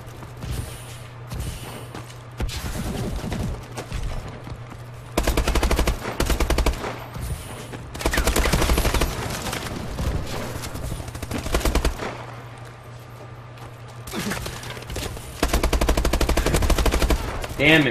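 Automatic gunfire in the video game Black Ops 3, repeated loud bursts of rapid shots separated by short pauses, close and dense.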